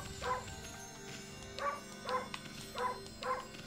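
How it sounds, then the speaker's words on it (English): Short yipping barks from the wolf in Okami HD, five quick game sound effects spaced about half a second apart, clear and alone over a low background hum. "I'm only truly happy when I'm making the wolf bark."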